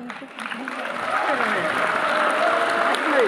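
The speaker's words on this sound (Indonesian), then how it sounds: "Tepuk tangan buat apa itu?" Congregation applause during a church sermon, a continuous steady clapping texture with voices mixed underneath.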